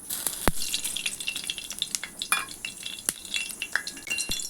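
Oil sizzling in a pan on a gas stove while cooking green chilli pithla, a steady crackling fry with scattered sharp clinks of a utensil against the pan, close and with no talk.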